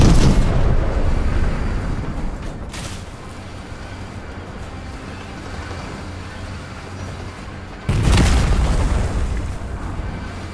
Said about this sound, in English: The tank shooting me